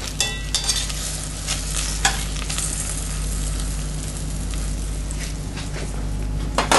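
Scallops sizzle steadily in a hot pan, a continuous close frying hiss with a few louder crackles and spatters near the start and end, no voices.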